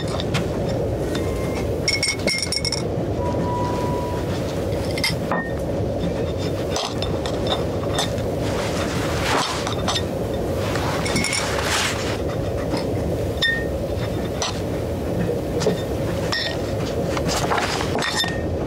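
A military troop train rolling along with rail cars, a steady rumble under repeated metallic clinks and clanks throughout, with no talking.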